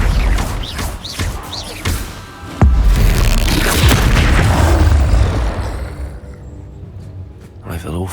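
Incendio fire spell blast from the Hogwarts Legacy video game, a sharp booming impact followed by a sustained roaring whoosh of flame, set among other crackling spell effects and combat noise.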